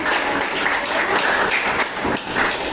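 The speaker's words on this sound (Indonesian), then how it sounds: "Kita berikan tepuk tangan dulu." Students in a classroom applaud together, a dense, even patter of clapping that lasts the whole moment without any talking.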